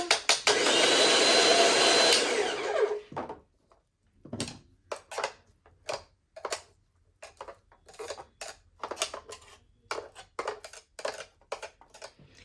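Presto Salad Shooter electric slicer/shredder whirs loudly and steadily for about three seconds while shredding peppers, then gives way to a run of short clicks and knocks.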